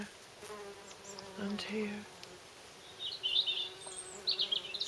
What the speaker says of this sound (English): the little carder bee there is working away